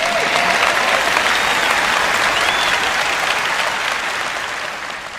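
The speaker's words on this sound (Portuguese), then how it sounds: "Eu sei que estão mais animados do que esse aplauso." Church congregation applauds in a loud, dense wash of clapping that holds steady, then gradually fades over a few seconds.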